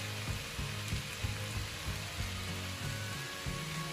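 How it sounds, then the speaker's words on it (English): Cabbage and mixed vegetables stir-frying in a pan with sesame oil, a steady close sizzle broken by soft rhythmic knocks of stirring, no voices. "My vegetables have been frying for a few minutes, so I'm just gonna add a bit of sesame oil at this stage"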